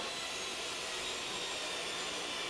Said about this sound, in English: I can start cutting some of the main carcass panels on the table saw